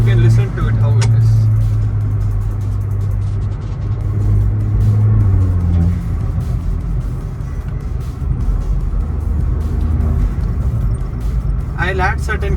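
A tuned Volkswagen Polo 1.2 GT TSI with an aftermarket exhaust is floored, its engine droning loudly and close with rumbling burbles and crackles, rising and falling in pitch over about twelve seconds.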